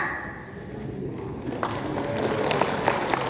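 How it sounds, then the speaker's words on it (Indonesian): An audience at an early childhood education (PAUD) directorate address applauds participants from Banten. The clapping swells from a soft murmur into steady, moderately loud applause over the second half. "Tepuk tangan untuk peserta dari Banten ya."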